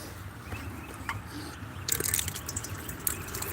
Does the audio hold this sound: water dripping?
yes